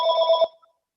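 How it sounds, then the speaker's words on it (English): A telephone ringing with a bright electronic trill that lasts about half a second and then cuts off, loud and close with no talk over it. "Or phone ringing."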